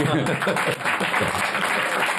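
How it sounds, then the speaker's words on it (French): A studio audience applauds steadily and densely for a couple of seconds, loud and close, with a voice talking over the clapping. "C'est ce public-là qui a applaudi"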